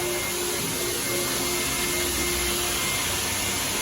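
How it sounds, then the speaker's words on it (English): A vacuum cleaner cleaning a Skoda Slavia car runs with a steady, loud whooshing drone and a constant motor whine, unchanging for several seconds. "You can hear the sound of the vacuum."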